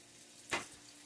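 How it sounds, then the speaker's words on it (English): Cheeseburger spring rolls fry in hot grease, a low, steady sizzle broken by two louder bursts of spattering, close by and alone. "we'll go ahead and drop those in the grease so they can start frying"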